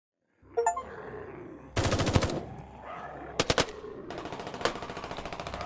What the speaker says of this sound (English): Terminus is firing at zombies from the upper floors